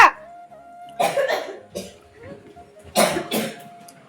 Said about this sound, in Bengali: কাশছো